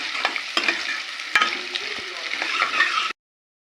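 Onions frying and being stirred in a pan for dal makhani: a close, even sizzle broken by several sharp spatula taps and scrapes, stopping abruptly into silence near the end.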